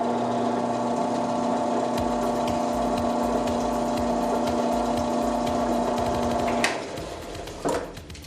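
A drill press runs with a steady close whine and hum, its bit biting into a clamped workpiece with a denser grinding rattle, then spinning down and stopping toward the end.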